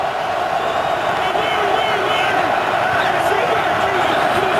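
A huge, steady crowd roar fills Arrowhead Stadium in Kansas City during a 2014 NFL game between the Chiefs and Seahawks. The dense, continuous din is carried under a commentator's voice.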